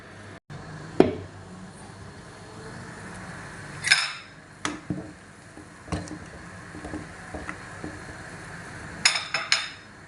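A lid goes onto a cooking pot of shrimp sinigang with a few metallic clinks and clatters, spread across a quiet kitchen background with scattered small knocks.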